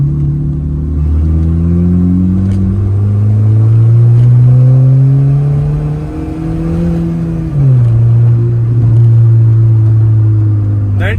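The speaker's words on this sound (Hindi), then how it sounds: "मैं मेन रोड पे आ गया हूँ और एग्जॉस्ट की आवाज़ सुन रहा हूँ" A car exhaust fitted with a makeshift homemade catalytic converter on a main road, the engine note climbing and falling through gear changes, loud and close.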